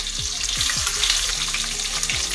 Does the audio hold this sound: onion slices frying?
yes